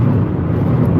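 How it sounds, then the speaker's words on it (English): A Hyundai car driving on the road, heard as a loud, steady low engine and road rumble inside the moving vehicle, with no talking. "I'm driving a Hyundai."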